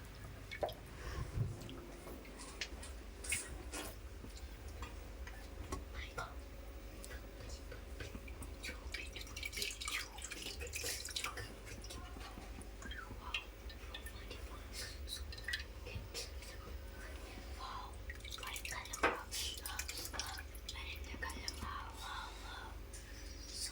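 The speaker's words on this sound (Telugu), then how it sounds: "చింతపండు పులుసుని బాగా నొక్కి వేసుకోవాలి" Soaked tamarind pulp is squeezed by hand with soft, wet squishing and scattered drips of juice. The sounds are close and fairly quiet over faint background noise, with murmured speech now and then.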